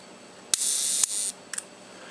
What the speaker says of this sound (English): you can listen to what the shutter sounds like